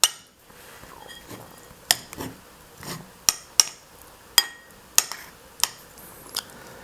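A utensil taps and scrapes against a bowl of white rice as an egg yolk is broken up, giving a string of sharp, close clinks at irregular intervals over a quiet background, with no voices.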